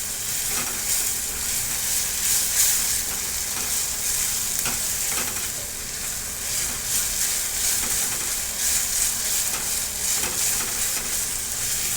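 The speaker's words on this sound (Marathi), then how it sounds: "आता परत थोडासा तेलामध्ये मी भाजून घेता याला" Loud, continuous sizzle of masala spices roasting in oil in a pan, with occasional stirring scrapes, for stuffed brinjal made with dried shrimp; no one speaks.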